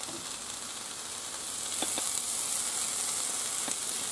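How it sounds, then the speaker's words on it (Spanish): Chopped onion, leek and a garlic clove hiss steadily in hot oil in a pan, a dense broadband sizzle that swells louder partway through, with a few faint pops and clicks, close by and with no talking. "Ya se ha calentado el aceite y ahora echamos la cebolla, el puerro"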